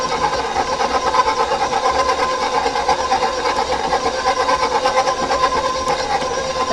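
Electric mixer creaming cupcake batter on low speed, a steady close mechanical hum with a fast even rattle throughout, no talking.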